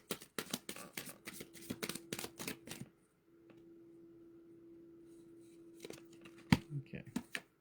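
Deck of cards being shuffled by hand at close range, a rapid run of crisp riffling slaps for about three seconds, then quiet hum, then a few scattered card taps.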